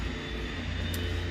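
Propeller engine drone from a Twin Otter floatplane in the X-Plane 10 flight simulator, a steady low rumble with a constant hum, running throughout at moderate level with no talk.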